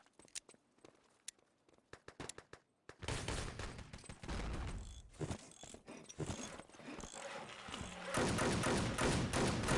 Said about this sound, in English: Nice pistol action from Kapot.